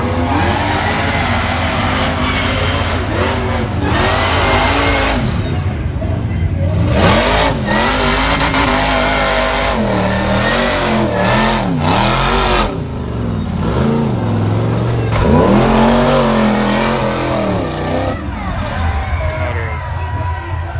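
Off-road race vehicle engine revving hard on a hill climb at Wildcat Offroad Park in Kentucky, loud surging and wavering roars under continuous commentary and crowd noise.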